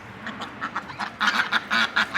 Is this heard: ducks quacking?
yes